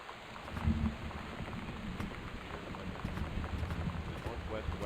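In the video game Gone Home, steady heavy rain hisses in a dense, continuous wash beneath low rumbling, moderately quiet, with a voice speaking over it.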